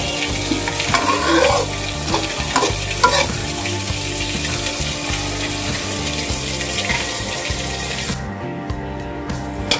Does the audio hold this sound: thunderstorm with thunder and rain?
no